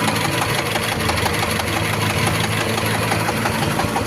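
A Kubota L4028 diesel tractor engine idles nearby, a loud, continuous low chugging rumble with no pauses.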